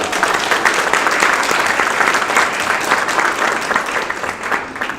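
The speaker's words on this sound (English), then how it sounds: "Let's give them a hand clap." Audience applause at a county RRS graduation ceremony, a dense, steady wash of many hands clapping that stays loud and full throughout before thinning slightly near the end.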